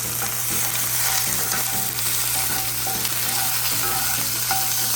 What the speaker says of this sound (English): right about now I'm just sauteing these ingredients